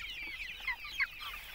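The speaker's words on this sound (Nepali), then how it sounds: "ए अनि के छ त यो कुखुराको स्थिति?" Local chickens on a permaculture farm give a short burst of clucking calls, two brief louder cries standing out over a steady outdoor background.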